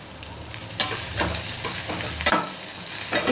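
Grated radish for chutney sautés in a hot pan with a soft continuous sizzle, punctuated by irregular scraping stirs of a spoon against the pan, no talk.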